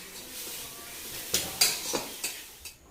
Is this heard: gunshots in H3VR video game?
no